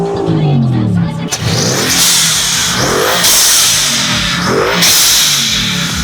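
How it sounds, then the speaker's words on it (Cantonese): Mercedes-AMG GT R with its bonnet open, the V8 revving loudly in repeated throttle blips that rise and fall close by, with a voice talking over the engine noise. "揭開寶藏，呢一個 V8 超級大心臟，一人一機 AMG 就係佢。"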